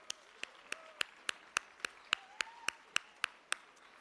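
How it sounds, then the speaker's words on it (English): After a Bharatanatyam arangetram dance performance, sharp claps ring out in a steady, evenly spaced rhythm, about three per second, close and distinct over a faint background. "A huge round of applause for Aditi and the entire team here"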